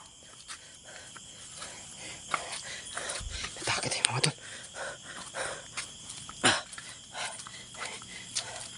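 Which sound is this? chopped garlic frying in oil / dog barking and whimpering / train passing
dog barking and whimpering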